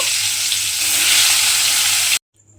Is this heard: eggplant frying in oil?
yes